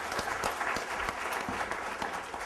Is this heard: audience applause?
yes